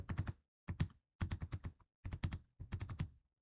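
Keys clatter on a computer keyboard as a table name is typed into Excel, coming in five short close bursts of rapid clicks separated by brief pauses, with no talking.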